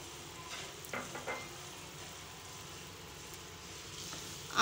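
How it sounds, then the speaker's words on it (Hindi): Boiled potato pieces and boiled eggs are gently stirred into an egg potato korma over low heat, giving soft scraping and a faint sizzle with a couple of light clinks, quiet and close, with no talking. "आहिस्ता से हम इसको मिक्स करेंगे।"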